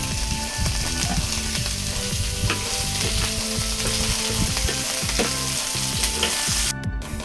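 Garlic and chili sautéing in hot oil, a loud, dense, unbroken sizzle with rhythmic scraping of a utensil against the pan throughout.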